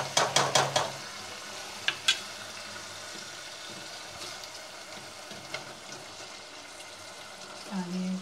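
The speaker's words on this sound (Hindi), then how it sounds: "बहू बेगम डालने जा रही है इसके अंदर तुरई।" Spicy courgette (turai) pieces tipped into a pan of fried masala and stirred, with a few quick scraping clinks up front, then a steady soft sizzle with occasional spoon taps and some talk over it.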